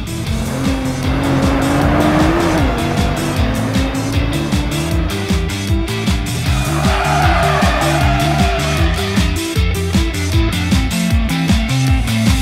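Nissan Juke-R driven hard on a track, engine roaring continuously with rising and falling revs and repeated gear changes, tires squealing through corners, loud and close throughout.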